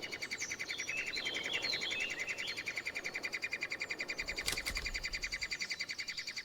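Three-toed woodpecker chicks beg in a mountain forest, a continuous rapid pulsing of high chirps with a few brighter calls above it, fairly faint against a quiet background.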